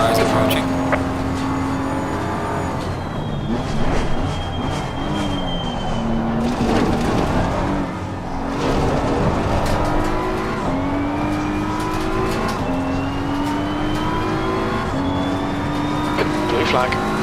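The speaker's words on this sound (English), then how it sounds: "Flash car is approaching" Race car on a racing circuit approaching, its engine note steadily rising and shifting through gears, with tire noise and a continuous roar under radio-style talk.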